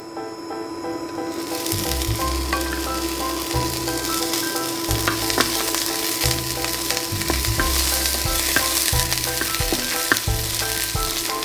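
Spring onions sizzle loudly and continuously in hot oil, the frying rising sharply at the start, with intermittent low thuds and rattles from the pan.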